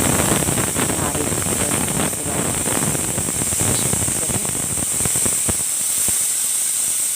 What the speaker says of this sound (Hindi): इसी तरह प्रेशर कुकर में रख के और एक इसमें सीटी लगाते ही एग बिल्कुल परफेक्ट उबल जाते हैं